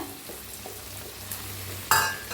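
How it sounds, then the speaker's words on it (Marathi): Curry leaves roasting in a hot pan for a spicy bhel snack, with a steady soft sizzle and faint stirring, then a single sharp metallic clink near the end. "कढीपत्त्याला जरा भाजून घेऊया"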